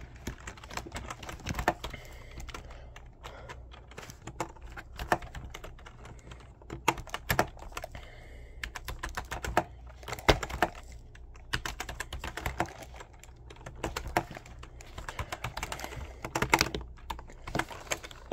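Fingers typing on a computer keyboard, bursts of quick close clicks and keystrokes with short pauses between runs, alone in a quiet room.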